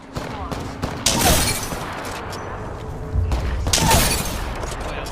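A gun in Apex Legends fires many rounds into a tree in two heavy rattling bursts with booming reports, under a voice talking throughout.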